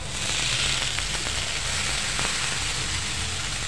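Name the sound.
thalipeeth flatbread sizzling as it is placed on the hot tawa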